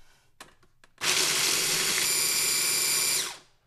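A nut chopper whirs hard for about two seconds after a few light clicks, a loud steady grinding buzz that cuts off abruptly, with no talking.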